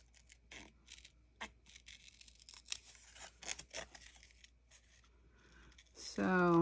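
Scissors cut out paper pieces with a series of crisp snips and rustles, some loud and close, at an irregular pace.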